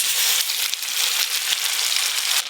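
A ground paste of poppy seeds, melon seeds, cashews and green chilies sizzles in hot mustard oil while a hilsa fish dish is cooked. The frying hiss is loud, close and dense, crackling steadily without a break.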